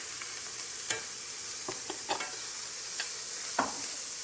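Ground meat browns with onions and carrots in a pan for an Italian Bolognese, giving a steady low sizzle with a few soft stirring scrapes, close and continuous with no talking.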